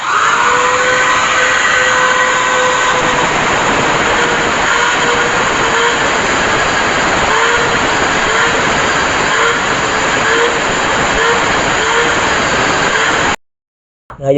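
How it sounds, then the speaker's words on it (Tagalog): An angle grinder cuts through the rivets of a washing machine, a steady, loud grinding whine that runs without a break, with a high metallic hiss, then cuts off abruptly near the end. "na-grinder na po natin itong kanyang mga rivets"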